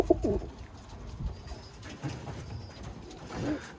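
Birmingham Roller pigeons in breeding cages coo softly, with a few low, muffled coos scattered across a quiet background, faint and close.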